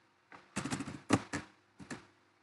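Typing a captcha on a computer keyboard: a few quick bursts of clicky keystrokes in short clusters, close and distinct against a quiet background, no voices.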